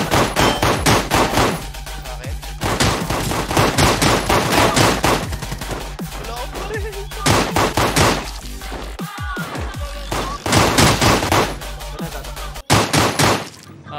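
Heavy gunfire in the battle royale game Rules of Survival, loud rapid bursts and sustained automatic volleys with brief pauses, close and dominant throughout.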